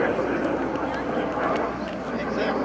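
An L-39 Albatross jet flying a low-speed pass at a 2011 air show, a broad, steady engine roar heard at a distance under an announcer's continuous commentary over the loudspeakers.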